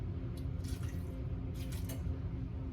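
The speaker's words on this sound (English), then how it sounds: "I'm gonna pour some water." Water pours into a stainless steel pot at home while cooking taco filling, a steady trickling splash heard close up under a low hum, with no talking.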